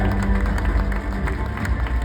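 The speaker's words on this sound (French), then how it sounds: "Salve d'applaudissements pour nos invités!" Spectators at a diving competition burst into applause for the guests, a dense, steady wash of clapping and crowd noise filling the full two seconds.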